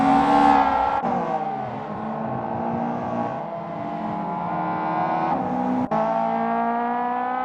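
A Mazda Eunos Roadster racing engine in Assetto Corsa, droning steadily and close with rising and falling revs and brief dips at gear changes. No one speaks.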